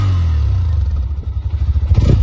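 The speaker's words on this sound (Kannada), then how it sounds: "ನಮ್ಮ ಗಾಡಿಯ ಎಕ್ಸಾಸ್ಟ್ ನೋಟ್ ಅಂತ ಕೇಳುವ" A Hero Xtreme 125R motorcycle idles close by with a loud, throbbing exhaust note, then revs in short pulsing bursts that rise toward the end.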